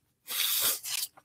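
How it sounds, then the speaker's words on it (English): A single sharp, hissy sneeze bursts out of near silence, loud and close, then trails off into a short breathy tail. "That sneeze, man."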